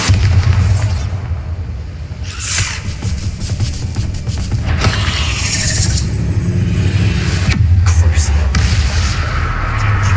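Bombarda blasting spell in Hogwarts Legacy, loud booming explosive bursts over a dense rumbling game soundscape, with a few sharp crackling blasts spread across the stretch.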